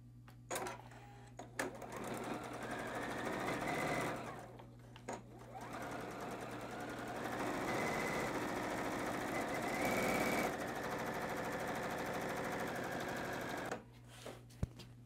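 A sewing machine stitches quilt blocks together in a steady, close, rapid mechanical whir, pausing briefly a couple of times before running on continuously.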